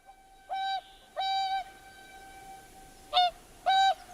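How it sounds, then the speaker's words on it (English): Goose or swan honking in four resonant, clearly pitched calls, two longer ones followed by a pause and then two shorter ones, loud and close against a quiet background. "here we have the sound of a goose,"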